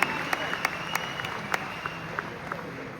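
An audience at a business motivational speech gives a brief, thin round of scattered claps, individual hand claps sounding sparsely over a steady background tone.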